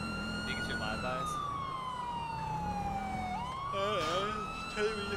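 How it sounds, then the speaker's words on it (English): Police car sirens in the GTA 5 video game, a loud continuous wailing tone sweeping slowly down then back up, with a second yelping siren entering near the end, over engine rumble. "you like the sirens?"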